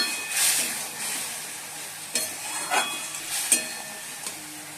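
Potatoes and banana flower fry in a spice masala with a soft hiss of sizzling oil. A few sharper scrapes and clinks of stirring come through, close and moderately quiet, with no voices.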